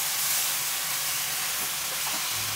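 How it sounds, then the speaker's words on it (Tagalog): Halved salmon heads sauté in a hot pan before going into sinigang, giving off a steady, even sizzle with a bright hiss. The sound is moderately quiet and continuous, with no talking. "Igigisa ko muna tong ulo ng salmon para matanggal yung lansa."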